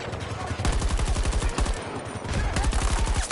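Rapid gunfire and explosions during a Russian assault on an objective in the Battlefield video game, dense continuous bursts filling the whole stretch at close range.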